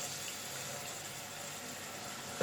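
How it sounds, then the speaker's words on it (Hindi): Water is poured into a pan of green chili curry (mirchon ka salan), a steady rushing pour that runs evenly throughout with no talking. "और डालेंगे थोड़ा सा पानी क्योंकि ड्राई हो गया है सब कुछ।"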